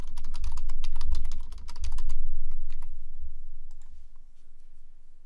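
Someone types a password on a computer keyboard, a rapid run of close, crisp key clicks that slows into a few scattered taps.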